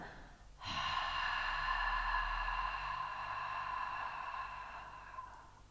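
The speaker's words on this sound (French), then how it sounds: "on va simplement expirer de la manière suivante, comme si on voulait faire de la buée sur une glace" A slow, steady exhale through the open mouth, as if fogging a mirror, comes in a breathy rush that begins sharply, holds level for several seconds and fades gently, close and quiet with no talking.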